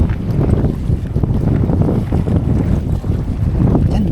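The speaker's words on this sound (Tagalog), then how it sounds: "Lakas ang hangin." Strong wind buffets the microphone at Manila Bay with heavy, low gusty roaring that rises and falls continuously, loud and close, with no talking.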